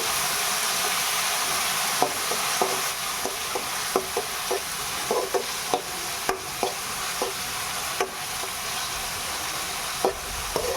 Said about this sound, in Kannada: ಟೊಮೊಟೊವನ್ನು ಹಾಕ್ಕೊಳ್ಳಿ ಕೂಡ ಫ್ರೈ ಮಾಡ್ಕೊಳ್ಳಿ